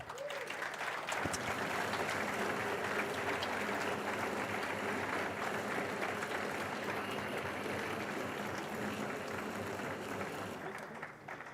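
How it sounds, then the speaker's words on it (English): An audience at the 2023 South African Mathematics Foundation annual awards ceremony applauds an honoree with a dense, steady burst of clapping lasting about ten seconds before tapering off at the end. "Let's applaud Mark Ancelotti"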